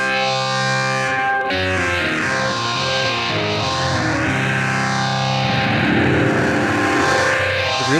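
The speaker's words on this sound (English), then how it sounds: "Turning up the distortion. And it sounds like a guitar right there." Heavily distorted electric guitar from a 1972 rock track, thick sustained chords with swirling chorus and echo sweeping across the stereo field, loud and continuous with no voices.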